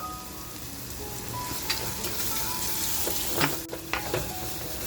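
Onions frying in a pan with salt added, giving a steady broadband sizzle throughout, with a few brief scraping stirs near the end and no voice.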